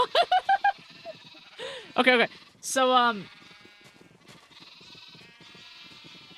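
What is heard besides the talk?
sheep bleating in Minecraft video game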